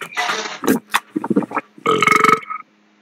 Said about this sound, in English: Oh, well, burp that out.